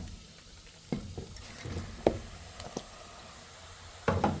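Mutton liver dropped into masala in a pan and stirred, giving soft sizzling under scattered spatula knocks and scrapes, close and fairly quiet.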